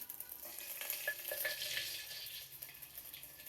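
Mustard seeds and garlic sizzle in hot oil in a pan, a faint, close crackling fry with small pops.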